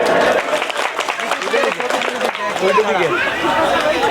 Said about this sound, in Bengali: বিদিশার উদ্দেশ্যে জোর করে একটা হাততালি